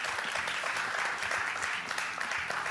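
An audience at a live event with costumed characters claps in a dense, sustained round of applause, steady and fairly close throughout.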